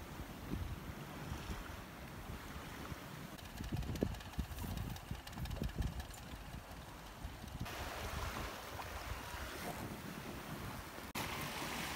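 A sailboat runs south with a northerly tailwind at about seven knots on the Atlantic toward Lunenburg. A steady rush of water and wind surrounds it, with sloshing wave surges and wind buffeting the microphone and no talk.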